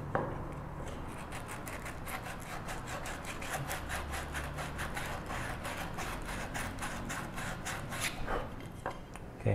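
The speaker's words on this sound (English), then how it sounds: "I'm going to sand the inside here." Steady rhythmic rasp of sandpaper rubbed back and forth across the inside of a wooden tissue box lid, close and continuous with quick regular strokes throughout.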